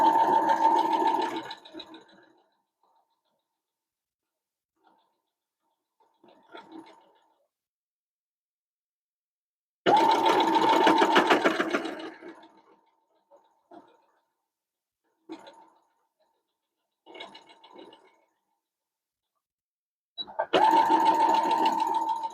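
A sewing machine stitches pieces for a beginner Jacob's Ladder quilt in three loud runs of rapid, steady whirring, separated by quiet gaps with a few short handling clicks.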